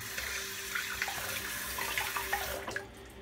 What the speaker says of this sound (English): had to rinse my finger off.